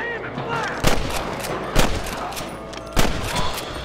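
Gunfire in the Western video game Red Dead Redemption, several sharp shots cracking out at irregular intervals over a continuous rumbling game background, with no talk over them.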